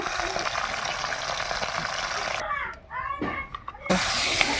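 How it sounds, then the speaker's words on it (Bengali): Katla fish frying in hot oil in a wok gives a loud, steady sizzle that breaks off briefly while a voice speaks, then returns at full strength. "কড়াইয়ে তেল দিয়ে দিলাম তেল গরম হয়ে গেল মাছটা এবার ভেজে নেব"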